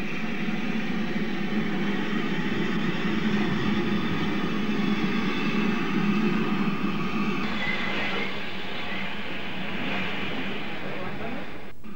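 A Bluebell Railway special train in 1988, formed to carry guests to an event at Horsted, rumbles steadily along at close range, a continuous rolling drone with a slight easing toward the end.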